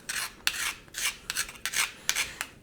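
A metal tablespoon scrapes minced garlic off a surface into a bowl in a series of short, dry rasping strokes, close and fairly loud, with no talk.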